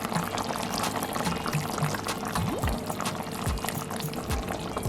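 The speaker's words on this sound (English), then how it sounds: "And I'm going to add 4 tablespoons of tomato ketchup." Thick tomato ketchup poured into a pot of Jamaican brown stew chicken, giving a steady soft liquid pour with a few gloopy plops over a constant kitchen background hum.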